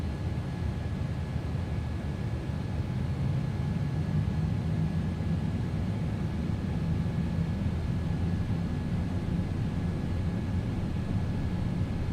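Cabin of a Norse Atlantic Airways Boeing 787-9 during takeoff, a steady loud engine roar and rushing broadband noise holding constant throughout, with a faint tonal whine riding on top.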